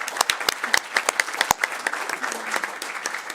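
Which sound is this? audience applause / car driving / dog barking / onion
audience applause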